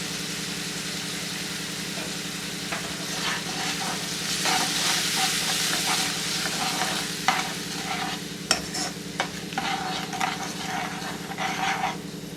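A puliyogare mixture, with powdered jaggery and salt, roasts in a pan over a low flame. A steady soft sizzle runs beneath repeated scraping strokes of a spoon, close and continuous throughout.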